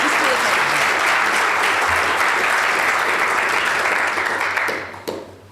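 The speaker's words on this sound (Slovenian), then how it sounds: "Podatek, ki zasluži en aplavz" A ceremony audience at a volunteer awards event applauds a diabetic tennis player. The clapping is loud and sustained, then thins out and fades near the end, with a few last scattered claps.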